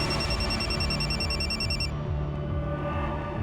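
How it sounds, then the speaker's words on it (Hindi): A telephone rings with a steady electronic trill over loud, dense background music before the ring cuts off partway through. "सर वो रूपाली जी के असिस्टेंट तुषार का फ़ोन था"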